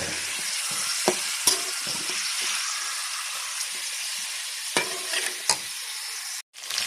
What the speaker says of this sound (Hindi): इतना हमारा ये चिकन फ्राई होगा, गोल्डन फ्राई हो जाएगा